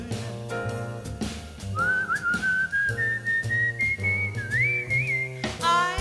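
A person whistles a bright, wavering melody over a gentle instrumental backing, the tune rising and sliding between held notes.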